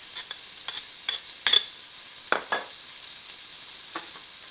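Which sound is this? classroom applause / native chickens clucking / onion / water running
onion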